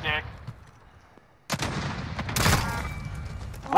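Sniper rifle gunshots in a snipers-only video game match: a quiet stretch, then sharp booming reports and broadband blasts, loud and close, with faint voices.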